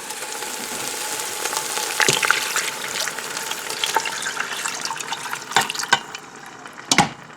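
Beef broth is poured into a hot Instant Pot on sauté mode, a steady liquid rush with sizzling that grows louder, then a few sharp crackles and splashes near the end.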